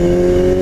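A motorcycle engine pulls hard from around 5,000 rpm, its loud, steady, buzzing drone close and continuous, with no talk over it.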